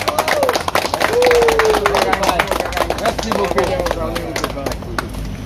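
Dense clapping from a bonsai touring group visiting a garden in Quy Nhon, loud and steady throughout, with cheering and babble of voices mixed in.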